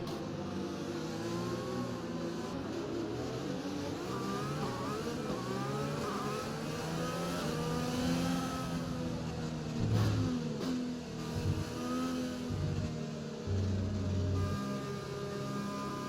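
Formula 1 car engine in the F1 2020 video game, revving steadily with rising and falling pitch on a practice start, a continuous loud whine throughout with small gear-shift dips near the end, no talk.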